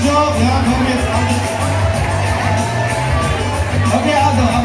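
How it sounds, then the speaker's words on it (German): A youth-centre crowd cheers and whoops for a breakdance show by young performers, a loud, dense, close swell of shouts and excited voices that holds throughout. "Deswegen Applaus für Till vielleicht noch."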